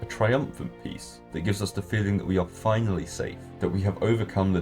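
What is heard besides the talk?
No everyday noises stand out.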